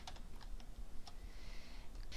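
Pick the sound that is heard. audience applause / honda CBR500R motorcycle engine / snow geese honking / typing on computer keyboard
typing on computer keyboard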